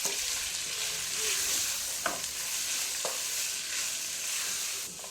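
Cinnamon, cardamom and salt toast in a hot pan with a steady, gentle sizzle, broken by a few light scraping stirs.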